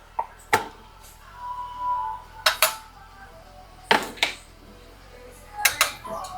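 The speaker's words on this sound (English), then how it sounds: "I like to cut it up into nice bite-sized bits." A knife cuts chicken breast into bite-sized pieces on a board, giving sharp, loud knocks that come in pairs at roughly one-and-a-half-second intervals, with quiet rustling between them.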